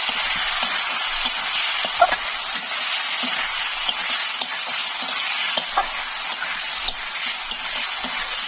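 Food sizzling and frying in a pan over steady crackling hiss, with intermittent stirring scrapes and clinks, close and continuous.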